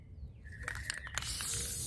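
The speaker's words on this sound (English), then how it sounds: "I am out here in my backyard spray painting this beautiful table" A table being spray painted outdoors in a backyard; a short hiss of aerosol spray bursts builds toward the end, steady and fairly close, with no one talking.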